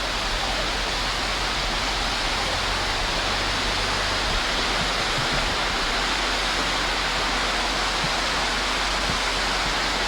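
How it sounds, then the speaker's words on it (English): A small stream runs beside a campsite, giving a steady, broadband wash of flowing water that stays even and close for the whole stretch with no talk over it. "Got a little stream running right behind us, or right by us here."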